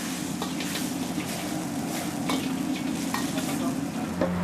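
Fish stir-fried with mushrooms and tofu cubes in a wok, a steady loud sizzle with the scrape and clatter of stirring running throughout, no talking.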